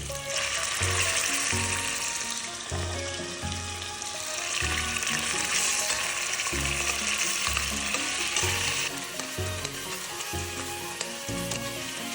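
Garlic, tomato and chicken sauté in a hot pan with mung beans, producing a loud, steady sizzle broken by rhythmic stirring scrapes close by.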